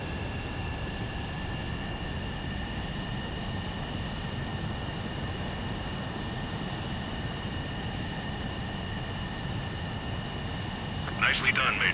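A jet aircraft in the Ace Combat 7 video game comes in to land, a steady loud engine roar with a whining high tone that holds throughout, a brief brighter burst near the end.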